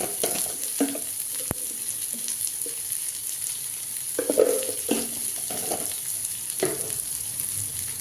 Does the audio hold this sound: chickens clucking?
no